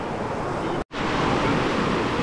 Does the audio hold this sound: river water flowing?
yes